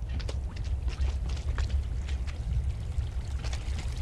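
Water runs steadily in a toilet inside a hotel in the game Fobia, a constant close trickling and gurgling wash with no voices.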